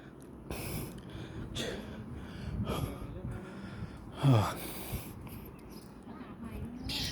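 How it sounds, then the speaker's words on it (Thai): A man breathes heavily after climbing up to a temple, with gasps and audible breaths close by, rising to one sharp louder breath near the middle, over background noise. "แค่เดินขึ้นแค่นี้ก็หอบแล้ว"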